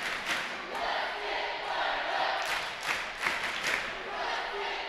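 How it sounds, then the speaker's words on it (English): Crowd at a 2018 NECC tournament girls' basketball game in a gym roaring and cheering loudly, a dense sustained din with shouts rising through it and an announcer's voice over it. "Central Noble has a pretty vociferous crowd here tonight for their girls"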